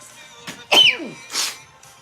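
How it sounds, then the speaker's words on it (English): A single sharp sneeze with a quick inhale before it, close and loud, with faint breathy sounds around it. "I gotta sneeze"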